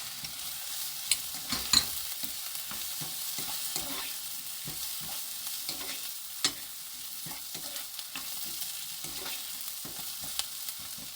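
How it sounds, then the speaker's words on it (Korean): Onions and seafood stir-fry in a pan over medium heat, a continuous close sizzle broken by scattered scrapes and taps of the spatula, with no talking. "색이 변할 때까지 이렇게 볶아줍니다"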